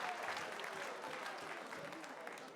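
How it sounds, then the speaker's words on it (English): An arena crowd at an MMA fight night claps and cheers after a bout, a fairly distant, quiet but continuous wash of applause that slowly tapers over a few seconds. "Give both these guys a massive round of applause."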